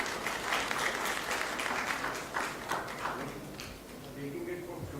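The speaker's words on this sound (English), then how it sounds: "The applause should be louder." Applause from a gastroenterology congress audience in Uttar Pradesh: a fairly faint, even wash of many hands clapping, slightly fading toward the end, with a voice briefly audible beneath it.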